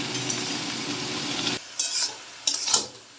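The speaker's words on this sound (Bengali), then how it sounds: "শাকটা মশলার সাথে মশলা আলু বেগুন গুগলি সব সাথে ভালো করে এটা মিশিয়ে নিতে হবে" Spinach, spices, potato, eggplant and snails being stirred together in a wok, with a dense sizzling scrape for a second and a half followed by a few short utensil scrapes and clinks.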